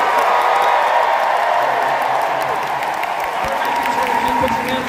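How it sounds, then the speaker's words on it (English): Loud crowd applause and cheering at a D23 Parks panel in a large arena, a continuous roar of clapping and voices sustained throughout. "we're going to have to hear a loud applause"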